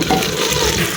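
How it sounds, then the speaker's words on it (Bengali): Spice masala is stirred and fried in a pan during a goat curry with potatoes: a close, continuous sizzle with scraping stir sounds throughout a brief moment, with no voices. "এখন মশলাগুলো ভালো করে লাইরা তারপরে কষাই নিব।"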